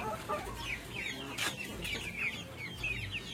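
Brahma chickens clucking at feeding time in a backyard flock, several birds making busy overlapping clucks and short calls close by, with no talk.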